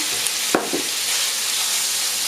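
Sliced sausage dropped into hot rendered fat in a pot sizzles and crackles steadily, with a short clatter as it goes in, then a continuous frying hiss with no talking.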